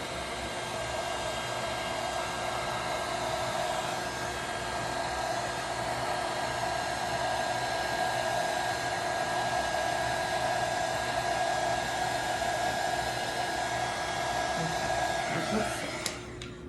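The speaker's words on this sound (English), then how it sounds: "Sometimes I like to push it out first with the heat gun and then do it" Heat gun blowing steadily over poured resin ocean art, a loud continuous airy roar with a faint tonal whine that holds for the whole stretch and tails off at the very end.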